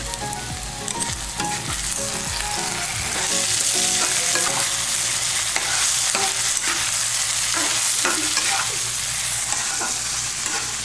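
Egg and sausage fried rice sizzles loudly in a hot pan while being stirred, with a steady frying hiss and intermittent scraping clatters of the utensil throughout, no talking.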